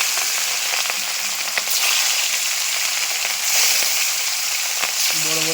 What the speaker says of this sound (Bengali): মাছগুলো ছাড়া হচ্ছে কালো জিরে দিয়ে।